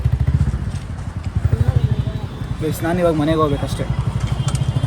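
A scooter engine runs close by with a low, rhythmic putter throughout, while a person talks over it.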